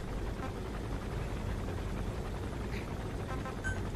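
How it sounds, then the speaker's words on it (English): Helicopter in the video game Metal Gear Solid V, a steady low rotor rumble holding at even loudness throughout. "Helicopter, air support."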